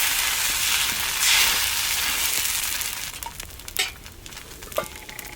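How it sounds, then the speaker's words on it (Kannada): Dosa batter sizzles steadily on a very hot, scorched griddle, a broad close hiss that eases slightly over time, with a few sharp scrapes or clicks near the end. "ಇನ್ನೊಂದು ದೋಸೆ ಹಾಕ್ತೇನೆ"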